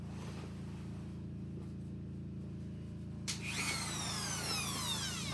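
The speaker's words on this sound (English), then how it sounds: "I'm gonna go ahead and polish out this lip where the teeth are, all the way around." A Dremel with a felt polishing bit works around the toothed lip of a BMX chainring, a steady motor hum that rises into a whining, higher-pitched spin partway through.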